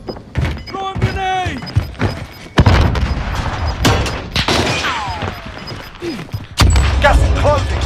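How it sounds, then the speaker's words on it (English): Grenade blasts and bursts of gunfire in the Call of Duty Warzone battle royale on Rebirth Island, loud and close, with heavy booms and rapid shots among game effects and brief voice callouts. "Throw a grenade!"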